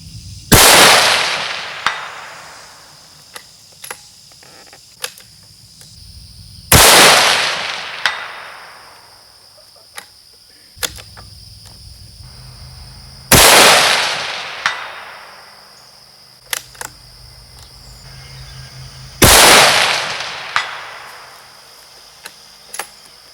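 A 6.5 Creedmoor rifle fires once-fired brass, four loud sharp shots spaced several seconds apart, each with a sharp crack and decaying echo, with faint clicks of the rifle action in between.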